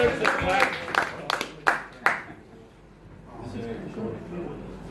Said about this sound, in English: Give a clap to Clutches.